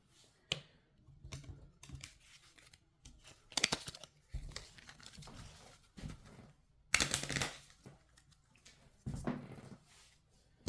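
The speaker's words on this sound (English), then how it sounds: "shuffle Maui's discard pile into his deck." A discard pile of cards from the Villainous board game is shuffled nearby in several quick bursts, each a crisp riffle and rustle separated by brief pauses, with no talking.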